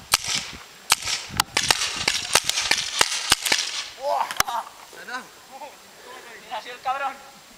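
Paintball guns fire at targets in a rapid string of sharp cracks and pops, close and loud, while people shout and talk over the shots.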